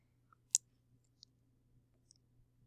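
A single crisp computer mouse click, close and isolated, followed by a fainter second click about two-thirds of a second later over a quiet background hum.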